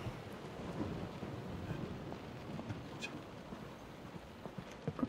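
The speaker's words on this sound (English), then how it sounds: "it's cold. And raining." Steady rain with a low, rolling rumble of thunder fills a scene in the video game Close to the Sun, with a few faint knocks over the constant wash and no talk.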